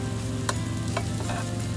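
Pork steak strips frying in a pan, a steady dense sizzle throughout with a few sharp crackles and pops, close and moderately loud over a low background hum.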